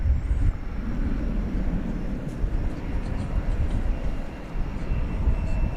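At night at DFW Airport, a Cathay Pacific airliner bound for Hong Kong rumbles with a steady, low, broadband engine drone that dips briefly near the end, with no voices over it.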